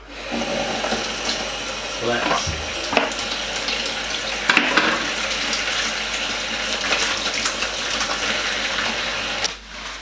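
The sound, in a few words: washing hands under running tap water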